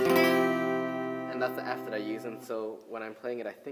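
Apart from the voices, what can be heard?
No distinct noise like a dog, phone or traffic.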